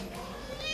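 A cat meows briefly and faintly in the background during a Malaysian talk show interview, the short cry partly masked by talk and room noise.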